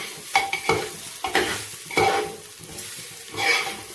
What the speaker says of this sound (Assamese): চাউলখিনি ৰঙচুৱা নোহোৱালৈকে মই ভাজি লওঁ।